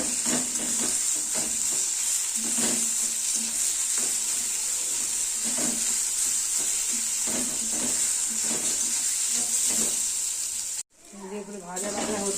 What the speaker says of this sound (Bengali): এটাকে ভালো করে ভাজা ভাজা করে